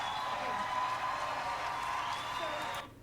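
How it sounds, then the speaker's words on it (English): Crowd applause at a Republican presidential debate, a sustained wash of clapping and cheering from a large audience that holds steady for nearly three seconds, then cuts off abruptly. "Those are the statements that got Vivek Ramaswamy roaring applause from the entire crowd"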